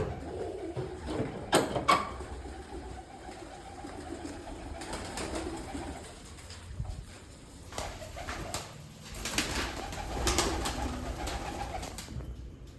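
Pigeons at a chick sale coo repeatedly in soft, throaty bursts, several birds close by with irregular overlapping calls and occasional faint rustling, no talk over them.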